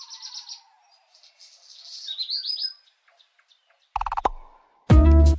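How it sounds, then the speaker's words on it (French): Birds singing in the cloister of the Augustins museum in Toulouse, clear chirps and warbling trills in short phrases, fairly close, with a couple of louder abrupt noises at the end. "Le chant des oiseaux qu'on entend dans le cloître des Augustins."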